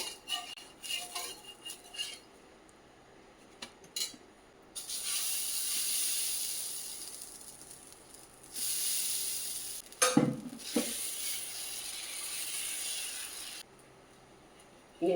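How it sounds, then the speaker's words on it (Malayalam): Watermelon dosa batter hissing on a hot dosa griddle, a bright steady sizzle swelling in long stretches between quieter gaps, with occasional utensil clinks and scrapes nearby. "ഇനി ദോശക്കല്ല് അടുപ്പേ വെച്ച് നമുക്ക് ദോശ നോക്കാം."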